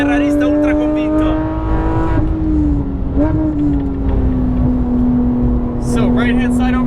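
A sports car revs hard on a race track, its engine note a loud, steady whine climbing and dipping as it accelerates, with a voice talking over it.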